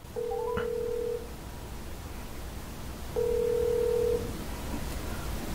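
An LG G7 ThinQ smartphone placing a call: a short tone with a rising blip, a gap, then a longer steady ringback tone over a faint background hiss, with no talking.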